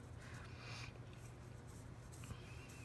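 Loose pencil sketching on paper, with soft scratchy strokes coming close together in short bursts over a steady low hum, quiet and near.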